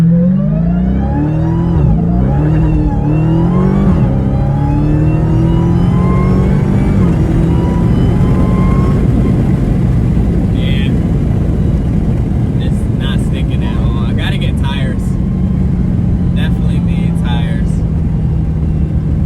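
A loud engine roars and climbs in pitch as a 2020 Dodge Charger Hellcat Widebody accelerates hard from a stop using launch control, with a high supercharger whine riding over it and a voice briefly heard.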